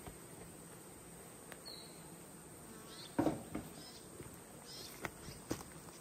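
Bees swarm over an open hive box in a steady, dense buzz, broken by a few sharp knocks and taps from handling the frames.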